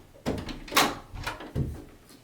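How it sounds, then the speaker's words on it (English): A door is opened nearby, with a few knocks and clunks of the handle and latch, a sharper bang in the middle and another thud toward the end, with no talk over it. "But I'll show you how to open the door."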